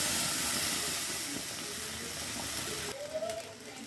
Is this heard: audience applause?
no